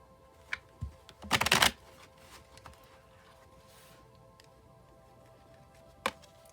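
Tarot cards shuffled in a quiet room, a dense riffling burst of about half a second after a couple of soft taps, then stillness with one faint tap near the end.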